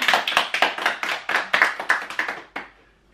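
A small group of people clapping in a loose, irregular rhythm, around a dozen uneven bursts of hand claps close by, ending in one final sharp clap before the sound stops.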